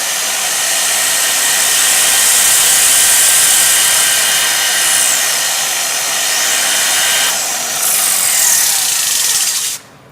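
A polisher at speed 3 or 4 spins its pad against a pad cleaning tool, giving a loud, steady high whir that runs nearly ten seconds, dips briefly near the end and then cuts off.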